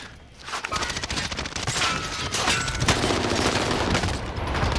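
Dense video game gunfire in a multiplayer squad shooter match, with rapid overlapping shots and bursts crackling continuously, close and loud throughout.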